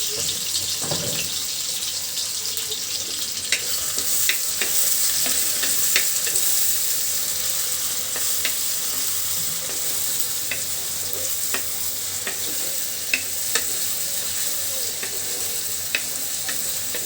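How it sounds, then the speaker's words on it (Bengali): Chopped onion sizzles steadily in hot oil in a pan for a fish-head bhuna, with a continuous loud frying hiss and occasional light crackles and stirring scrapes. "পেঁয়াজটা ভাজি কিন্তু"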